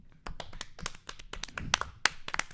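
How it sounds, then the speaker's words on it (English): A small group applauds at the end of a podcast, with a short burst of scattered, uneven hand claps, close and fairly loud, and no talk over it. "Does it normally end in a round of applause?"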